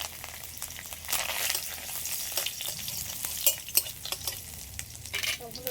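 Crushed ginger, asafoetida and curry leaves frying in hot oil, a soft continuous sizzle broken by spatula scrapes and light clinks against the pan, close and moderately quiet, with no one speaking.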